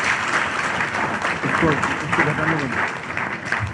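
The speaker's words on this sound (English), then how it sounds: "So please give them a big round of applause for NIT" Applause from an engineering-institute audience honouring NIT Durgapur, a steady dense clapping that fills the room, with a voice speaking over it.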